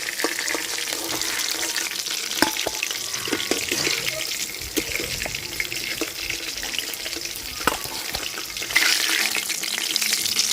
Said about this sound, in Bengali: মাথাটা আর একটু ভাজা হইব।